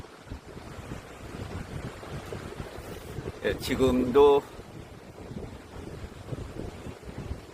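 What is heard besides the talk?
rough sea waves and wind on coastal road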